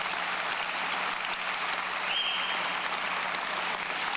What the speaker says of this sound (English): Big round of applause for the entire class of